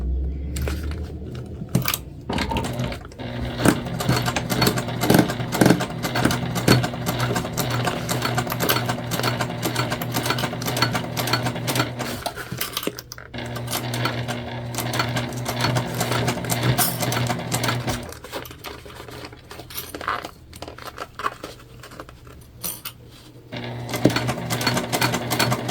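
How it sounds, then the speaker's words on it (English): A sewing machine stitches a tote bag from corner to corner, its steady, fast mechanical whir running almost continuously at close range, with a few brief pauses and restarts. "we're going to stitch from corner to corner, making sure that we enclose everything appropriately."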